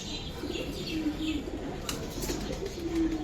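Giribaz pigeons at a breeder's loft give soft, low cooing calls that recur steadily through the clip over a faint background hum, with occasional light chirps.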